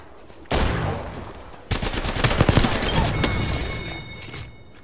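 Video game gunfire rings out in a squad battle, first a single burst, then a sustained rapid volley of loud automatic shots that gradually fades.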